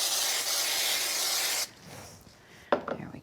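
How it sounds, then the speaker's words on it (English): Spray adhesive hisses in one steady, loud burst onto Wisteria card for about a second and a half, then cuts off, leaving quiet handling and a couple of sharp clicks near the end. "we're just going to do a quick spray"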